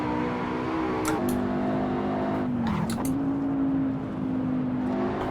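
McLaren 570S simulated in Assetto Corsa on the Nordschleife, its engine droning steadily with pitch dips and rises through shifts and corners, plus brief higher whooshes of passing or tyre noise, continuous and close throughout.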